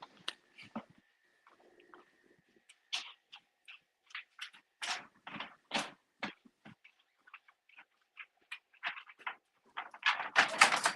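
A pet dog barks repeatedly in short, sharp bursts at close range inside a home, with breathy panting and snuffling between barks, building to louder, denser barking at the end; no one speaks.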